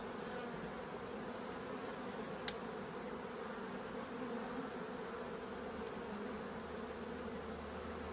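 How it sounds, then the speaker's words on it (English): Honey bees buzzing in a full hive box: a dense, steady hum from many bees, close and continuous throughout, with no talk. "As you can see, this box is full of bees"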